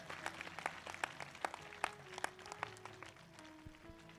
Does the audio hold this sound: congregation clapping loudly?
yes